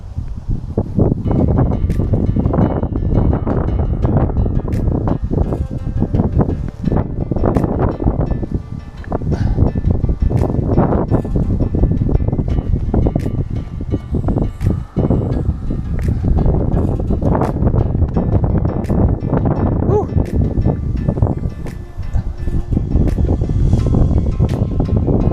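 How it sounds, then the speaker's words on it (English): Loud, gusty wind buffets a microphone on an Appalachian Trail mountain path near Lehigh Gap, a rumbling, low-heavy roar that surges and dips for the whole stretch. "Wind's got to be nasty with this mic"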